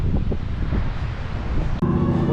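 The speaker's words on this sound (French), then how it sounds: "Il fait quand même beau, mais il y a du vent." Strong gusty wind buffeting the microphone on a sunny day in San Francisco, rumbling low and uneven throughout, with a steadier hum near the end.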